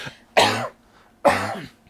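Two harsh coughs, close and fairly loud, about a second apart, each a short rasping burst.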